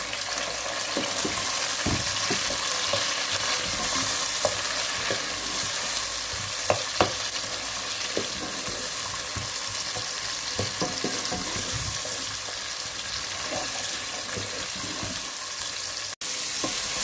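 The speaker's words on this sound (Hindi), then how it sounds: "अब इसमें हम अपने कटे हुए टमाटर डाल देंगे ताकि ये सॉफ्ट हो जाए।" Chopped tomatoes frying in a pan for palak masoor dal, a dense steady sizzle with scattered scraping and stirring knocks, close and continuous.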